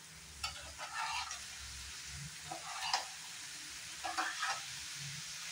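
Boiled soybeans and green peas sizzle in a hot pan over a gas flame, with intermittent stirring scrapes and crackling bursts over a steady hiss, no voices.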